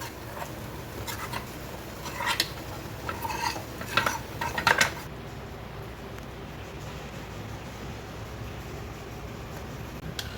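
A spoon stirs okra curry with tempering in a pot in a short burst of clinks and scrapes, followed by a steady low background hiss.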